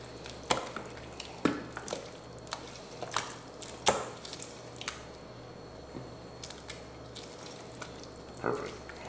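Wet, squishy stirring of a Southern cornbread dressing mixture for Thanksgiving, with soft irregular squelches and scrapes close up and no talking.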